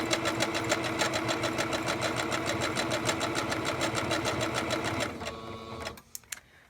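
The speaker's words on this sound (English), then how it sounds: "now I'm going to put down a few stitches just to make sure that it's in" A sewing machine stitches a fabric mask in a fast, even mechanical chatter for about five seconds, then slows and stops with a few last clicks. The sound is close and there is no talk.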